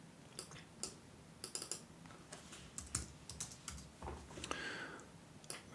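Fingers tap on a computer keyboard while writing in Microsoft Word, giving quiet irregular bursts of close clicks with short pauses between words.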